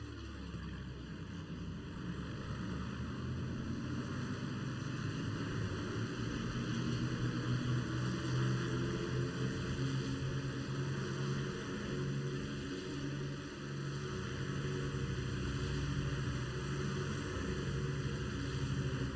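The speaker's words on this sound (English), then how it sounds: "Nobody wants this stinky Spitfire." Propeller engine of a Spitfire fighter plane in the video game Wings of Prey, a steady, loud, continuous drone that holds evenly without a break for the whole stretch, with no voices over it.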